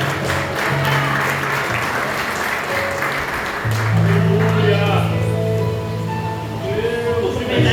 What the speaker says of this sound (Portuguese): A igreja aplauda ao nome do Senhor.